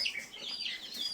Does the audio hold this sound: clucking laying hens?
yes